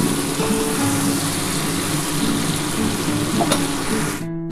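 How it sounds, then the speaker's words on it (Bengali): Vegetables fry in hot oil for a vegetarian ash gourd dish, a steady close sizzle with faint stirring that continues unbroken until a sudden stop. "আর অল্প একটুখানি লাল করে ভেজে নিই"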